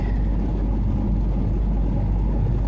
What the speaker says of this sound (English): Stuck in the rush hour traffic.